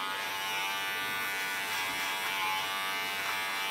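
Electric hair clipper working the back of the neck and behind the ears during a haircut, giving a steady, moderately quiet high buzz that holds without a break from start to finish, with no voices over it.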